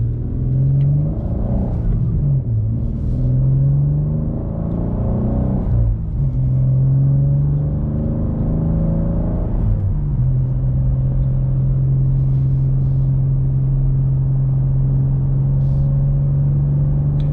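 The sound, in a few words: BMW M2 engine with manual transmission driving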